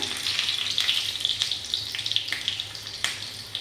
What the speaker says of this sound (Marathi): मस्त फोडणी अशी एकदम तडतडलेली आहे